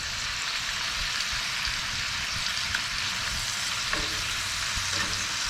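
Bacon frying in a Griswold cast iron skillet on an old Coleman camping stove, a steady close crackling sizzle with dense pops running unbroken throughout, no voices.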